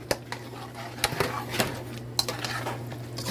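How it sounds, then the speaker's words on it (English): Onions going into a pot of okra stew, heard as a series of metallic clinks and scrapes of a utensil against the pot with a faint background sizzle, irregular and close. "I'm gonna add the onions to it."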